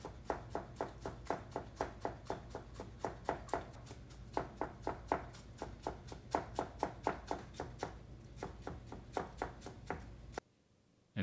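A knife slices green onion on a cutting board for miso soup, dozens of crisp, even chops tapping in a steady fast rhythm close up, and the sound stops abruptly at the end.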